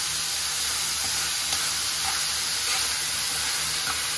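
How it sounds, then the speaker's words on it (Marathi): Salted onions sauté in a hot pan with a steady, loud hissing sizzle that holds constant throughout, with a few faint stirring scrapes under it and no voices. "कांद्याला आपण आता व्यवस्थित परतून घेऊया।"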